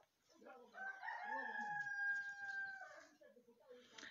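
A rooster lets out a single long, loud crow that holds steady for about two seconds, with softer voices murmuring before and after it.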